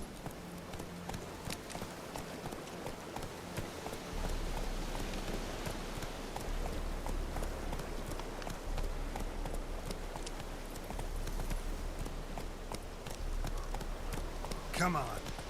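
Geralt's horse Roach gallops in The Witcher 3: Wild Hunt, hooves beating a quick, steady clip-clop rhythm close by for a long stretch, with voices speaking over it at times.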